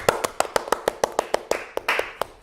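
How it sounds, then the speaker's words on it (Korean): A small group claps in unison at a Korean community cheering segment for the Jeonnam Dragons football club: about fifteen crisp, evenly spaced claps, fairly close and loud, with no talk over them. "박수 한번 해줘. 박수."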